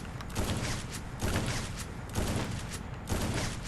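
Repeated bursts of gunfire from a mobile shooter game played through BlueStacks, four rapid volleys in a regular rhythm at moderate, even loudness, with no voices.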